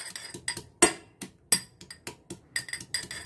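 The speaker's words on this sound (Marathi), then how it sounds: "आता आपण त्याला असं ठेचून घेऊया" Five garlic cloves crushed by hand for a Kokan-style egg curry tempering, a series of sharp, close knocks and pounding thuds at an uneven rhythm, one stronger crunch standing out.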